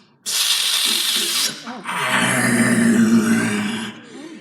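A voice imitates a cobra's low, raspy growl in two long breathy bursts, the second deeper and rougher, close and loud with no other sound.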